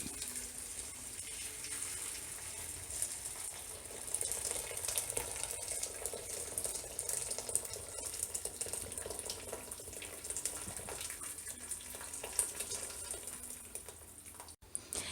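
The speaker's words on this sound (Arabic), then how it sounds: "الآن غنقوم بإضافة ماء مغلي." Boiling water is poured steadily into a cooking pot for Moroccan couscous with meat and vegetables, a continuous soft gushing splash lasting the whole stretch, fairly quiet, with a sharp knock near the end.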